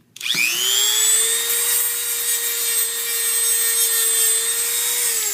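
A power tool spins up and grinds steadily with a high whining drone, loud and close, holding for several seconds without talk.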